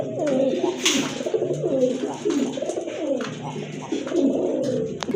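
Kalsi-necked (pot-throated) fancy pigeons coo repeatedly in soft, rolling phrases, close by, with a bit of background noise and faint voices.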